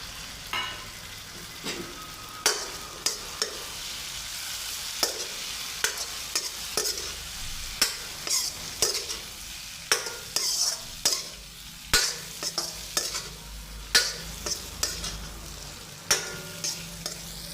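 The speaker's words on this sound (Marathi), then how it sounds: "आता बाकीचा शेवगा आपण ह्या फोडणीमध्ये फ्राय करून घ्यायचा आहे" Parboiled drumsticks fry in a hot spice tempering for Kolhapuri-style shevga fry, a steady sizzle broken by regular, close scraping strokes of a spoon stirring in the pan, about one every second, with no talk.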